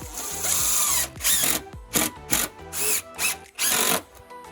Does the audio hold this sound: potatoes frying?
no